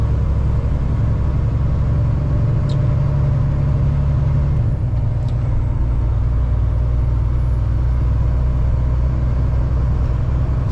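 A truck rolls slowly down the road, its engine giving a steady low rumble with road noise, and a short hiss like an air brake partway through.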